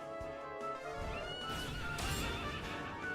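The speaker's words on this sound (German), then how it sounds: "Dieses Pferd. Gegen das will ich kämpfen." In Dragon Quest XI, a horse enemy gives a loud whinny with clattering hoof sounds, heard alone and fairly faint.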